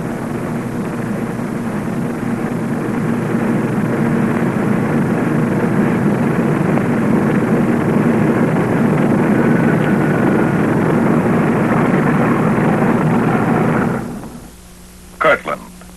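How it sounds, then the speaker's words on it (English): A bomber aircraft taxis toward takeoff under guard, its engines a steady loud droning roar lasting most of the time, then dropping away near the end to a quieter hum with a couple of brief knocks. "The bomber ready, it moves off to wait its takeoff time under double guard."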